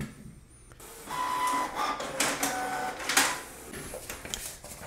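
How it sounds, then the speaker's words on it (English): A Canon Pixma TR3720 inkjet printer prints a document sent over Wi-Fi, its carriage whirring and clicking in busy mechanical bursts, close and fairly loud. "Okay, so the printer has printed everything."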